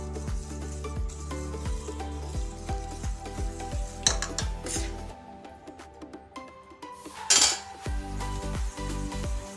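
A whisk or spoon knocks and scrapes rhythmically against a bowl as flour is worked into pineapple cupcake batter, with steady clinking strokes, a short pause, then more mixing.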